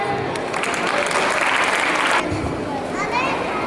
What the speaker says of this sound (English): Can you please clap for them?